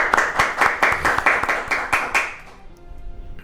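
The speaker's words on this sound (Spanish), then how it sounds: "lo recibimos con un fortísimo aplauso" A live radio studio audience greets an interview guest with a short round of brisk, rhythmic clapping. The hands beat about four times a second, then fade after roughly two and a half seconds.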